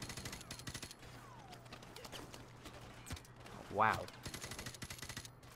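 Gunfire in a Modern Warfare Remastered campaign firefight: scattered rapid shots crackle throughout at moderate distance, with a louder nearby burst near the end, while a player's voice talks briefly over the action.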